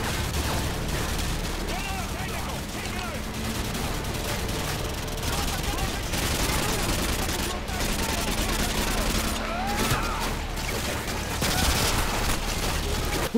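Gunfire in Modern Warfare, including an AK rifle, rattles in dense bursts and scattered shots for the whole stretch, with a player talking over the shooting.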